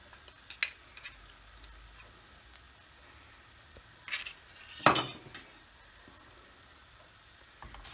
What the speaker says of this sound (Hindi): अब हम इसको अच्छी तरीके से मिला लेंगे, सारी चीज़ें अच्छी तरीके से मिल जाएगी